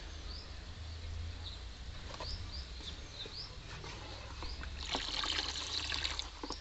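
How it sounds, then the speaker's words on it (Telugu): Water poured over clay cooking pots to submerge them for soaking, giving a steady close trickle and splash that swells louder near the end, with faint bird chirps behind it and no talking. "కుండల్ని నిండా మునిగేటట్టు నీళ్ళు పోసి ఒక రోజు మొత్తం నానాలి కుండలు"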